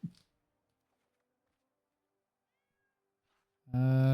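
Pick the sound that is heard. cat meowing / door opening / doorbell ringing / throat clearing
cat meowing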